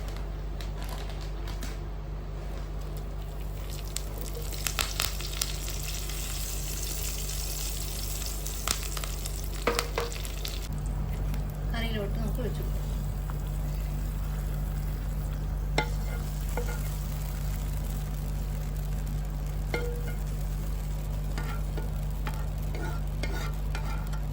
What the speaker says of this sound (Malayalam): കുറച്ച് കറിവേപ്പിലയും കൊടുക്കാം കേട്ടോ.